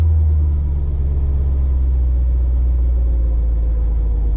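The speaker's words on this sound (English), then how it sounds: "And it goes goes straight to zeros if I blip the throttle" Mercedes C55 with its M113 engine running close by, a loud steady low rumble with little change, no clear rise from a throttle blip.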